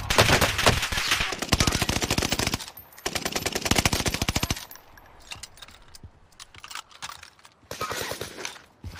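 Rapid automatic gunfire in the Warzone video game, long dense bursts of shots followed by scattered single shots and clinking, loud and close.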